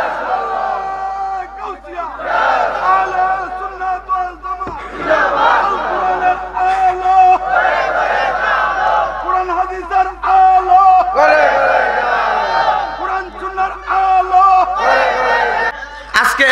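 At an outdoor religious mahfil gathering, a large crowd shouts the takbir in loud, surging chants that rise and fall in several waves of massed voices.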